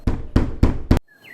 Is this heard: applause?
no